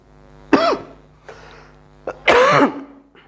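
Two sharp, close coughing bursts with throat clearing, separated by a short pause, the second longer and rougher than the first.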